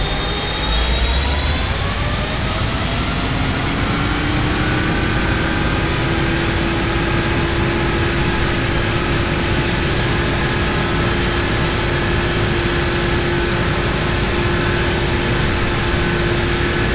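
Steady, continuous jet engine roar of a PMDG Boeing 777 in the FSX flight simulator, a dense broadband rush with a slowly rising whine tone settling into a sustained drone, with no talking.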